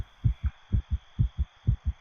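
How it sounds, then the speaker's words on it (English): A heartbeat pounds steadily in an audio drama, loud paired thumps repeating about four times over two seconds against a faint background hum, with no voices. "My heart pounding in my ears"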